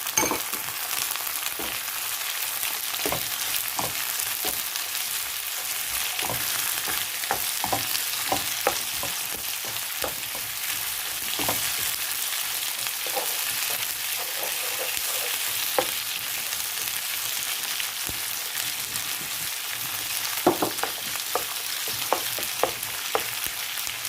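Chopped green pepper frying in a pan for pasta, a constant close sizzle with frequent sharp clicks and scrapes from stirring scattered across the whole stretch.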